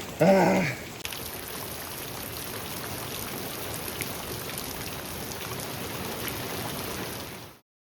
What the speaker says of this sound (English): it's just started downpouring. really raining